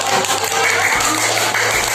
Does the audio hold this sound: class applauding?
yes